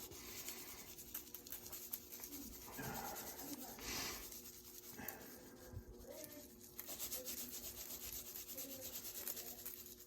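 Hands lightly rub a sweet, warm spice rub with cinnamon into a wagyu brisket, a soft continuous brushing and scraping texture at close range with occasional handling bumps, fairly quiet throughout.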